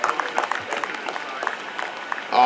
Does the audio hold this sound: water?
no